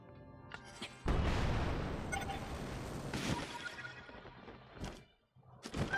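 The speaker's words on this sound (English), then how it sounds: "simply affix another rocket to your shield and let it propel you to the upper platform" A rocket fixed to a shield fires and launches the player upward to a higher platform in Zelda: Tears of the Kingdom, giving a sudden loud whooshing blast that trails off over several seconds, with a few short thumps around it.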